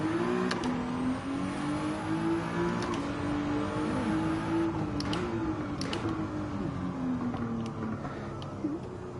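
A car engine drones and revs steadily in Gran Turismo 7, a smooth sustained tone that rises and dips with throttle over several seconds, with faint clicks and no speech.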